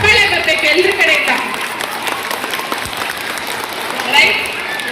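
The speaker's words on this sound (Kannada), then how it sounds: "ನಮ್ಮ ಆರಿಫ್ ಖಾನ್ ಸರ್ಗೆ ಒಂದು ದೊಡ್ಡ ಚಪ್ಪಾಳೆ ಬರಬೇಕು ಎಲ್ಲರ ಕಡೆಯಿಂದ" Loud audience applause at a school anniversary celebration fills the stretch, fading a little in the middle and swelling near the end, with voices mixed in.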